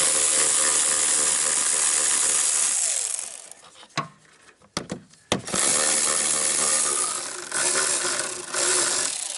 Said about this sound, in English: it's like an M12 like ratchet, like 3/8 ratchet driver